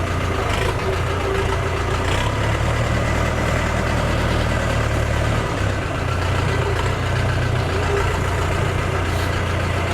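A Fighter TE504 RD mini tractor engine runs steadily at idle, a loud, continuous low diesel rumble with constant throbbing and no pauses or talk.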